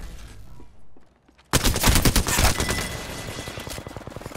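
Rapid gunfire rattles in an Apex Legends match, a sudden loud burst of fast automatic shots after a quieter moment, continuing as dense staccato fire with no voices over it.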